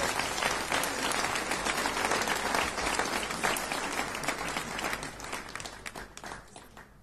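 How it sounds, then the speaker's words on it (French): Wedding guests clap for the newly married couple after the procession: a dense, lively round of applause that starts strong and gradually thins and fades toward the end, with murmured voices faintly underneath. "Voilà, on les applaudit aussi."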